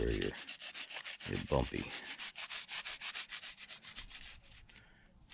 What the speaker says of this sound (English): now I'm just gonna give this a good rubbing in the areas